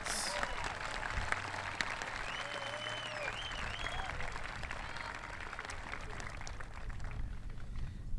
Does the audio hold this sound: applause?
yes